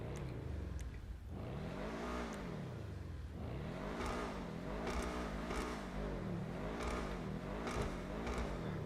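A Mercedes-AMG GT in GTA Online Arena War revs repeatedly, its engine note swooping up and down in a steady series of roaring blips, loud and close.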